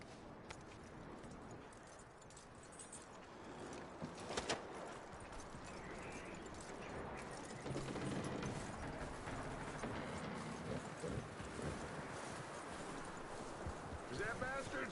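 Horse hooves clip-clop in a PS4 video game, a steady walking rhythm mixed with bird calls and game voices talking over them.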